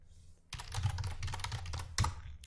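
Someone types on a computer keyboard: after a quiet half second, a quick, close run of light key clicks and taps clatters for about two seconds, ending with a firmer keystroke. No one speaks.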